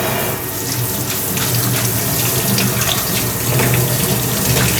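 Cold tap water runs steadily into a sink while food is being rinsed, a loud continuous splashing gush that stays constant throughout with no speech.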